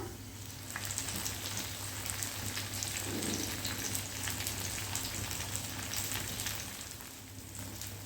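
Fish shallow-frying slowly in oil over a medium flame, a steady soft sizzle like light rain with a low hum beneath, continuous and even throughout.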